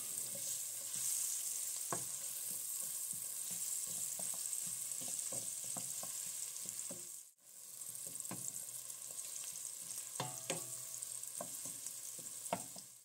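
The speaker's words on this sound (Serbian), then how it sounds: "možemo dodati komadiće šargarepe, pa sve zajedno kratko propržiti" Onion and carrot pieces fry together in a pot for a Hungarian cabbage soup, a steady soft sizzle with scattered clicks of stirring, fairly quiet and with no talking.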